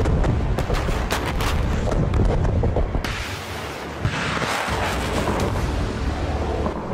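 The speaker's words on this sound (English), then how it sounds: "Salvo fire." Artillery salvo fire from Finnish military combat footage: loud, dense, continuous booming blasts with crackling bursts across the whole span, a sharp shift in texture partway through, no talk.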